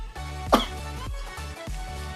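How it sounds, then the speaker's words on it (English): One sharp cough cuts in over a steady, low, humming background, then fades, leaving only the hum. "sorry for the bad cough."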